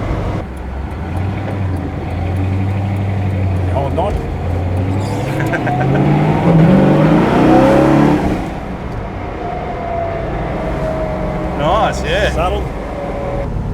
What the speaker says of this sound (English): they really can drone after a while, some of those loud exhaust systems